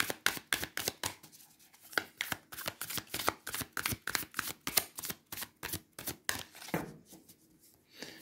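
Oracle cards being shuffled by hand: a quiet, close series of quick papery riffles and snaps in a steady rhythm, with no voices.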